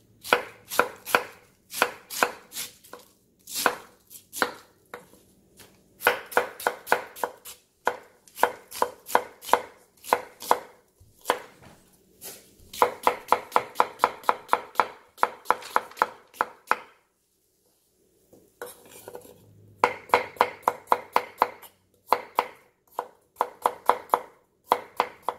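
A knife chops homegrown vegetables on a cutting board in quick, sharp bursts of rapid strokes, separated by short pauses with one longer silent gap, loud and close, with no talking.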